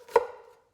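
A single sharp knife chop through an onion on a cutting board, one close, crisp thud with a short fading tail.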